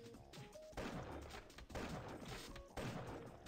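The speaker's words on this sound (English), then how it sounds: "now I'll just kill him with this sniper" Gunfire from the 2D action game Chaos Faction, a burst of sharp, loud shots in quick rhythm, heavy and up close, with no talk over it.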